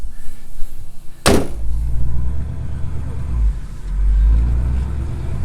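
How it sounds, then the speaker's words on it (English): 1970 Chevy C10 truck engine idles and runs with a low, uneven rumble, preceded by a sharp thud like a door shutting, heard up close with no speech. "Knock on wood, this thing's running pretty decent right now."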